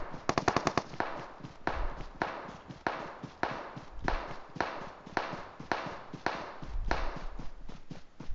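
Gunfire in the mobile game PUBG Mobile: rapid automatic bursts crackle in quick succession, followed by a steady run of repeated single shots at even intervals. The shots are fairly loud and close, with no talk over them.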